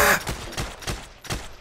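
A grease gun submachine gun firing in Heroes & Generals, a quick burst of about five evenly spaced punchy shots at close range.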